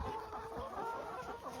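Chickens cluck softly in a coop and run built from pallets, a faint, close scatter of short clucks over a quiet background.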